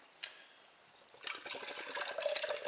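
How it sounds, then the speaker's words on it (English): A canned widget drink is poured into a glass at full flow: a brief click, then a rising gurgling, splashing rush of liquid filling the glass up close, with no talk. "you pour the drink in at full flow"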